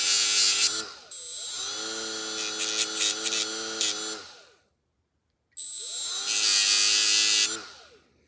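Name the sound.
grinding edges of metal terminal tool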